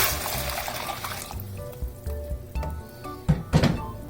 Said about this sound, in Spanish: Vaciamos nuestra salsa.